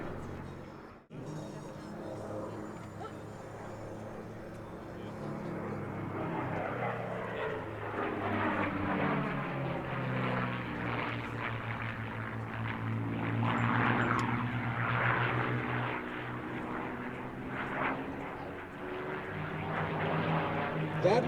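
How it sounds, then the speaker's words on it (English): Two P-51D Mustang propeller fighters pass in formation at an air show, a loud droning piston roar that swells and sweeps in pitch as they fly by, with a faint voice now and then. "as we see these airplanes go by"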